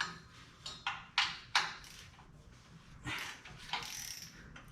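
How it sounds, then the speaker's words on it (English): Wrench clicking and clanking while loosening the alternator bolt on a 1970 Ford F250 dually truck, with a handful of sharp metallic ratchet-like bursts spaced irregularly at close range. "All right, we're gonna loosen the alternator up a little bit."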